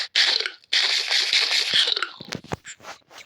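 Crunchy bites of a carrot being eaten in a Minecraft-style video game, two long bursts of dense crackling munching followed by a few scattered, fading chews, close and alone.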